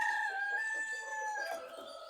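A Shamo gamecock rooster crows once, a long drawn-out call lasting about two seconds, loud and close with clear harmonic tone and no talking.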